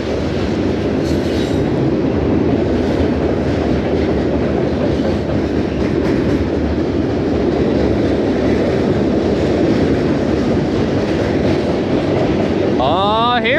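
A loud, continuous roar of a train rolling along the rails, with rumbling wheel noise and a rising squeal right at the end.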